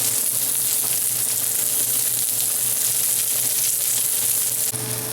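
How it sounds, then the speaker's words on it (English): Zucchini slices sizzle steadily in a little hot oil in a pan, a continuous close frying hiss with no talking. "Hot pan with a little bit of oil. Just going to lay these zucchini in there and give them a little bit of color."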